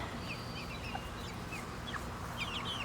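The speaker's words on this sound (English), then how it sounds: "But these are our chickies." Young pet chickens, including white Bantams, Rhode Island Reds and a rooster, peep and chirp softly in a brooder box built from scraps, with scattered high calls over a steady low background hum and no talking.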